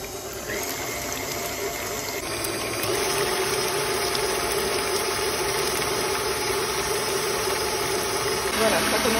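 A KitchenAid stand mixer whirs steadily while its speed is raised from low to maximum, a continuous motor drone that gets slightly louder and higher partway through, with faint background noise throughout.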